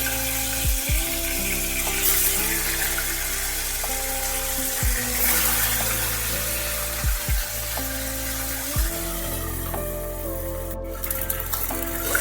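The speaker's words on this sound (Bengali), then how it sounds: "এক মিনিট এইভাবে একটু ভেজে নিলাম একটা পিঠ দিয়ে।" Puti fish frying in mustard oil in a wok on a gas stove, a steady hiss of sizzling with a few soft clanks of a utensil, no talk.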